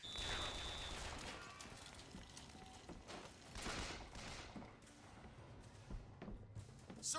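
Dense, chaotic gunfire in the video game Bioshock Infinite forms a continuous, noisy battle din with overlapping shots, impacts and clatter throughout, fairly faint overall.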